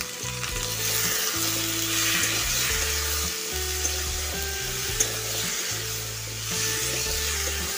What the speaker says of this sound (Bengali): তো সবজিগুলো আমি হালকা তেল দিয়ে একটু ভেজে নিচ্ছি।